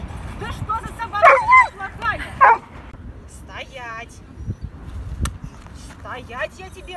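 A small dog being trained yips and whimpers in short bursts close by, while someone talks to it between the sounds.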